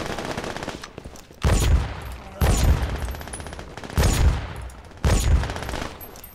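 Mounted turret guns fire in loud rapid bursts in the shooter game Brink, four or five heavy volleys separated by brief pauses, close and booming.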